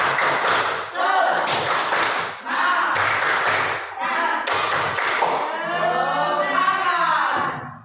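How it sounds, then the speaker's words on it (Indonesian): Group of students performing a rhythmic "tepuk semangat" clapping chant in class, patterned bursts of claps alternating with chanted voices, loud and close throughout. "Tepuk semangat"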